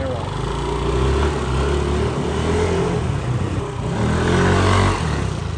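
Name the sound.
Yamaha Aerox 4-stroke scooter engine running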